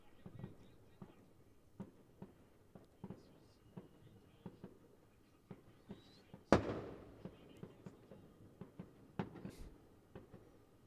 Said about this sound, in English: Plenty of fireworks firing around